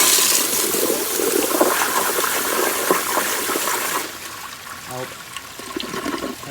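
A 1992 Kohler Kingston toilet with a Water Guard flushometer flushes with a loud, forceful rushing gush that continues and then eases into gurgling refill water, heard up close.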